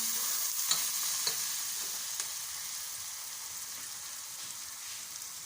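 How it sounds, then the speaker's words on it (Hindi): Vegetables frying in a pan as powdered spices go in and are mixed, a soft steady sizzle with a few faint taps and stirs, no voices. "तो ये सारे पाउडर मसाले इसमें डाल देते हैं। डाल के इसको मिक्स करते हैं।"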